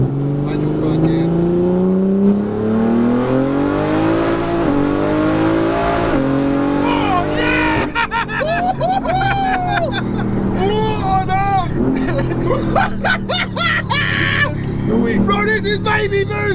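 A BMW car engine on a dyno pulls in manual third gear, its note climbing steadily for several seconds before breaking into loud, fluttering revs and pops, with excited voices over it.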